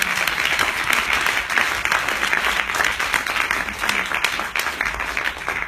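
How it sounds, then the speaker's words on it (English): A stage-event audience breaks into steady, dense applause welcoming a speaker, a continuous wash of clapping from many hands with no talking over it. "please welcome to the stage with a huge round of applause, Wendy Cheryl."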